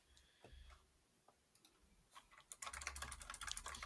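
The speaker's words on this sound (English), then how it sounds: "you can hear the typing, the Googling in the background." Computer keyboard typing, sparse clicks at first that build into a fast, busy flurry of keystrokes, quiet and somewhat distant.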